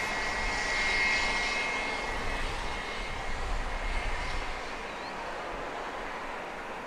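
A fixed-wing aircraft, smaller than the big jets, runs its engines at Owen Roberts International Airport on Grand Cayman, a steady broad roar near the runway that swells early and then eases to a lower hum.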